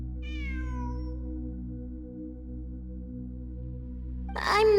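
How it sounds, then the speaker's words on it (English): A single cat meows in a video game, a clear, drawn-out cry heard alone over a steady low ambient hum, followed at the very end by a brief burst of another sound. "It really is a cat."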